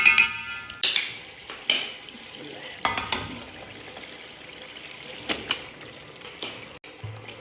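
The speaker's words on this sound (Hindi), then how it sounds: "अब हम डालेंगे इसके अंदर अपना चिकन," Yogurt-marinated chicken for Hyderabadi dum biryani goes into a hot pan on high flame and is stirred. Sizzling continues under repeated sharp scrapes and clanks of a spoon against the pan.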